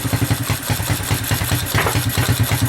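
A Honda 200SX engine runs with the choke on, a loud, close, steady fast-pulsing idle with an even rhythmic throb throughout.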